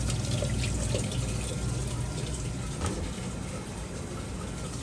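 Water runs into a vessel while LB agar plates are being prepared, a steady, close rushing and trickling stream that holds at an even level throughout with no talking.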